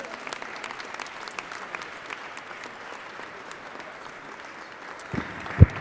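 Audience applause at a San Francisco Climate Action Week and Earth Day celebration, a steady wash of many hands clapping at moderate loudness, ending with a few sharper, louder claps near the close.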